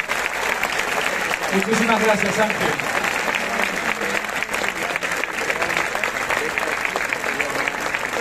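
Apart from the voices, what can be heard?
applause at Lerma festival proclamation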